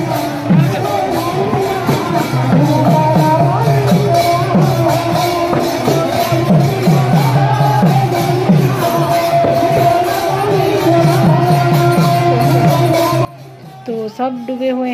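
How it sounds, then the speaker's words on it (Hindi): A large crowd of devotees at a Rath Yatra chariot festival in western Odisha sings kirtan, a dense, loud wash of voices with rhythmic chanting, then drops abruptly near the end to quieter talk. "सब डूबे हुए हैं भक्ति में और कीर्तन कर रहे हैं।"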